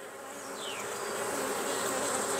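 Honey bees swarm around an open, honey-bound hive, giving a steady, full buzzing drone close by that swells slightly over the moment.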